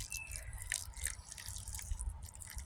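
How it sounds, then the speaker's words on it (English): Water drips and patters outdoors as freshly planted pea, squash and bean seeds are watered, a series of light close drops over a low rumbling background with no talk. "I'm just going to start watering from up here."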